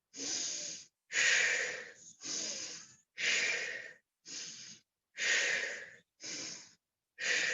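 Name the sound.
exaggerated yoga breathing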